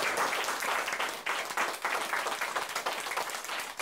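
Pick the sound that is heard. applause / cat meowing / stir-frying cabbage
applause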